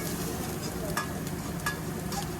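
Chopped onions fry in hot oil in a pan, a continuous close sizzle broken by a few quick stirring scrapes and taps, with no talking.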